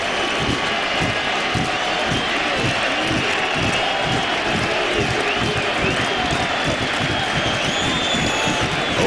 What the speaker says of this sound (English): This crowd getting loud.